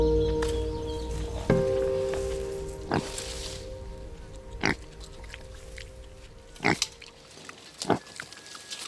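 Pigs, an invasive species on the Galápagos Islands, grunt and snuffle in a series of short, sharp outdoor calls that recur irregularly over a steady background hum.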